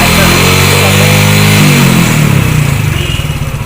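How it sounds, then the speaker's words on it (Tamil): A Splendor motorcycle engine races on its own without throttle input, a loud, steady high-revving drone up close that gradually settles into a slower, pulsing idle toward the end. "ஆக்சிடென்ட் கொடுக்காம ரேஸ் ஆகுது"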